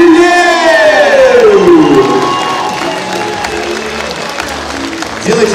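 An audience at the S.O.S 2018 solo cosplay parade applauds and cheers for the contestants. The clapping is continuous, with a host's voice speaking over it.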